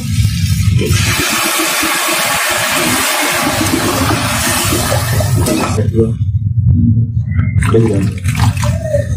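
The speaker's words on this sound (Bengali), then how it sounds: "এবার এর মধ্যে আমি জল দিয়ে দেব" Water pours into a pot of spiced curry cooked with poppy seed and mustard paste, capsicum and small fish, making a loud, close rushing gush that sizzles briefly, then swells again.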